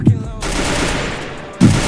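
Gunfire in the mobile battle royale game Free Fire, with a firefight at the edge of the zone. Loud, close bursts of rapid shots open and close the moment, with a rushing wash of game noise between them.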